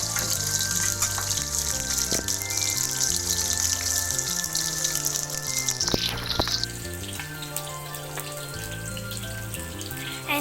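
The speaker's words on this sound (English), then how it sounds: "Fry it a little bit." Onions frying in a pan give a steady, hissing sizzle, loud and close, with a brief clatter around the middle and a low background hum throughout.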